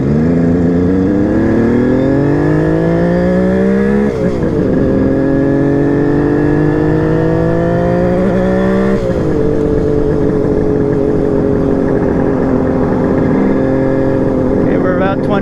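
A kick-start motorcycle engine pulls in 4th gear at just over 3,000 RPM while riding, its loud steady drone rising in pitch as the revs climb, with a couple of brief dips as the throttle changes.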